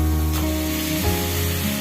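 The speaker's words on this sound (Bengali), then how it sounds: "এবার এখানে আমি যে চিংড়ি মাছগুলো ভেজে রেখেছিলাম ওগুলো ছাড়বো।" Fried prawns are tipped into a spice paste in a hot pan, setting off a loud, continuous sizzle and spray that holds steady for the whole moment, heard alone without talk.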